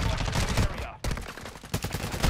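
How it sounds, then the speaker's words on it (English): Sustained rapid gunfire in a team-based shooter video game, loud and continuous with a brief break near the middle, under faint voices. "I'm hearing gunshots to the southwest."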